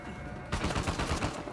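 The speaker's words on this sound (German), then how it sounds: "Dass die schon mit MGs auf uns schießen, ey." Automatic machine gun fire bursts out in the Uncharted 4 video game after a brief quiet moment, a dense rapid rattle of shots continuing steadily to the end.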